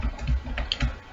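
Rapid clicks of fingers typing code on a computer keyboard, close and fairly loud, in an uneven burst of keystrokes with no talk.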